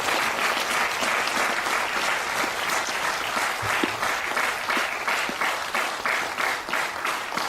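Sustained applause from a sizable crowd at a meditation festival closing ceremony, steady and dense clapping throughout with no voices standing out.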